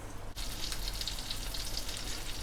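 Breaded cordons bleus frying in a hot pan, a steady close crackling sizzle with dense spattering pops throughout, a brief thump at the start.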